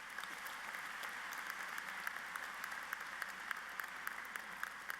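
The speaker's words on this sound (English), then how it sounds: "Let's give them a round of applause." Sustained applause from a university commencement crowd at Texas A&M International University, a steady dense wash of many hands clapping at even level throughout, with no talk over it.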